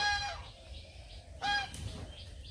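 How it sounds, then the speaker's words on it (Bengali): Loud, strident bird calls from fowl, two bursts of harsh honking cries about a second apart, close by over a low rumbling background. "ওই যে হাঁস বাড়িতে রাখছে আর ডাকাডাকি করতে করতে এই আসতেছে"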